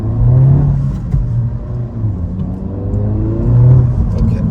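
A 2023 Honda Civic Si's turbocharged engine pulls under moderate throttle, a steady close rumbling drone with rising and falling harmonic whine as it accelerates, continuous for several seconds with no talking.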